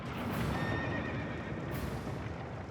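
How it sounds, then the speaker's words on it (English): In the Dark Souls 2 video game, a horse gives a loud neigh and whinny over dense, continuous background noise with a steady clip-clop of hooves, all heard close and without talk. "Awful fucking horses."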